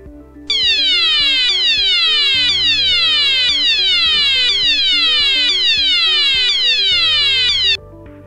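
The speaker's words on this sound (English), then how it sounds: "To hear what the alert sounder sounds like, I've asked one of my colleagues to activate the toggle switch on the EvacAlert panel" A C-TEC EvacAlert alert sounder for flat evacuation blares a loud, repeating electronic sweep pattern, a rapid falling whoop cycling about once per second for roughly seven seconds before cutting off abruptly.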